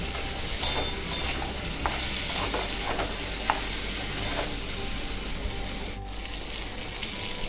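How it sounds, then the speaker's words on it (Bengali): Ginger paste stir-fries in a pan, a steady sizzle broken by repeated scraping strokes of a spoon against the pan, close and continuous. "দিয়ে এটা আবার ভালো করে আদাটা এতে কষিয়ে দেবো"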